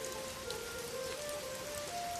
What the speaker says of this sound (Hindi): ये बारिश देखो कितनी तेज हो रही है